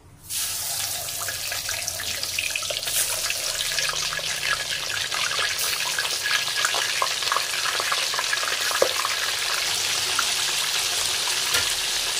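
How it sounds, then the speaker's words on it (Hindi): Paneer cubes fry in hot oil left over from cooking garlic, a steady, loud, continuous sizzle with dense crackling that holds evenly from start to finish, no voices. "अब इसी गर्म ऑयल में हम पनीर को भी फ्राई कर लेंगे"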